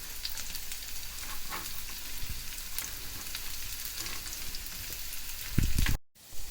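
Cubed onion and green chili frying in a pan, a steady close sizzle with soft crackles and a brief clatter and stirring near the end.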